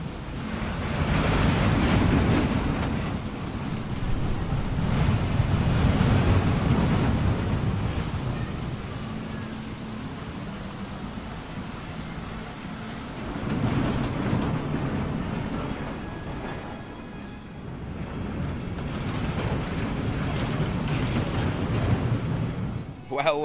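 Ride on Colorado Adventure, a mine train roller coaster at Phantasialand: strong buffeting wind roar rises and falls in long waves as the train runs, with rumble beneath.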